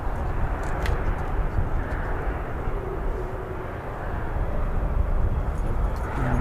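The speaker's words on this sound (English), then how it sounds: "Yeah, I can definitely hear an engine now. Yeah, I can definitely hear a prop" A steady, droning propeller aircraft engine hum near RAF Lakenheath fills the air, low and continuous, swelling slightly louder toward the end with no voices present.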